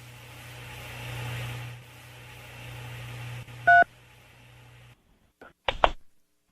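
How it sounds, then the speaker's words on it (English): Automated collect-call phone system: a steady line hum gives way to a short burst of keypad dialing tones, then a few brief tone pulses after a moment of silence, with no talk. "To accept the charges, dial 3."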